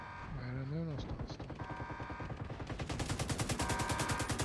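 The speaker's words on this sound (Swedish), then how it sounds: "Vad är det som låter nu då? Det är oklart. Kanonen. Kanonen igen, ja." A cannon fires in The Division 2 in a fast, regular string of loud bursts that builds and holds steady, with a brief tone and talk early on.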